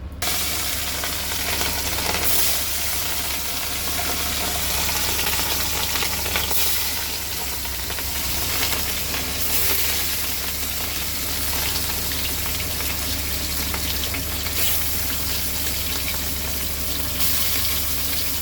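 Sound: katla fish frying in a hot pan of oil

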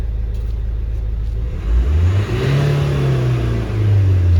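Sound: Renault Megane III engine revving

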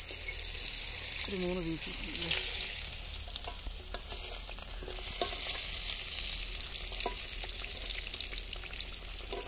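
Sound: deep frying broasted chicken in oil

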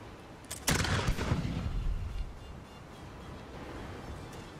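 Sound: ship cannons firing grapeshot in Blackwake video game

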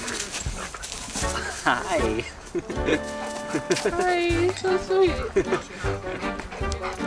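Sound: dog

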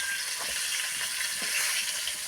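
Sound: pangasius fish frying in a pan

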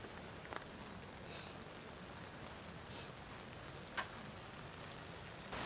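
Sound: rain falling during outdoor football training camp

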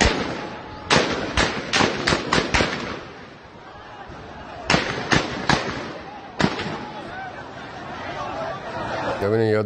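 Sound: gunfire from a rooftop at protesters

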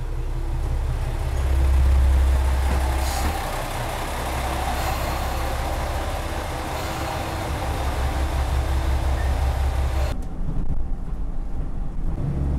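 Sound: train arriving at station

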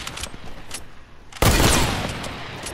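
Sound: AK rifle gunfire in a video game

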